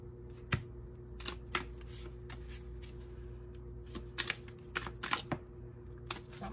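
Tarot cards being shuffled by hand, a run of soft, quick riffling clicks and taps that come in irregular bursts, fairly quiet and close, with no talking.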